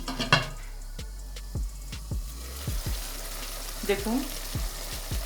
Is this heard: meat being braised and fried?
yes